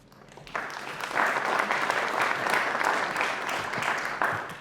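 Audience applause at a policy event, rising after a short quiet start into a full, steady wave of clapping that carries on loudly with no talking over it.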